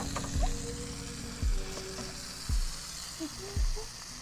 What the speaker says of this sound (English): looks like it's sizzling